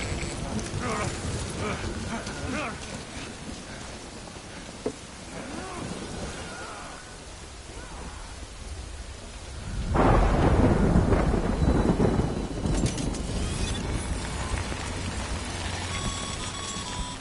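Rain falls steadily in the video game Death Stranding while thunder rumbles, swelling into a loud, close crack of thunder partway through that lingers, with a few sounds from the game layered over the storm.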